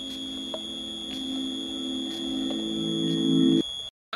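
Smoke detector under test, sounding a steady electronic buzzing tone with a high pitched whine above it for several seconds before cutting off abruptly, heard indoors over a cartoon background.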